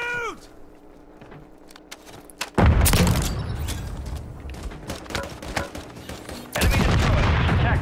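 A frag grenade blasts loudly in Warzone, with two heavy broadband booms, one midway and one near the end, amid scattered gunfire and game effects, with no talking.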